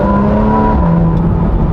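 A Porsche sports car engine drones loudly and steadily with a strong low hum and gliding tonal whine, heard up close as it pulls along with no talk.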